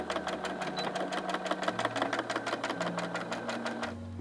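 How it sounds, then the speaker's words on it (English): Sewing machine stitching cloth for a homemade face mask, a steady rapid needle rhythm running close and continuous with the motor pitch shifting as speed changes, no talk over it. "I'm just gonna sew it right in half like that."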